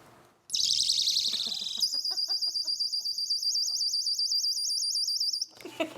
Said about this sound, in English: It's a personal safety alarm. So have this in your pocket, and when she starts biting